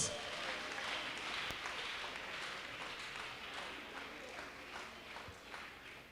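A church congregation clapping during a prophet's service, a continuous crowded patter of many hands at moderate distance, steady for several seconds with faint voices mixed in.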